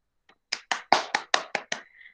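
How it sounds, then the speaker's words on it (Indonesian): A classroom of pupils applauds a classmate with seven sharp, evenly spaced claps in unison, quick and fairly close, followed by a short faint tone as the rhythm ends. "Beri tepuk tangan untuk Dia Eva."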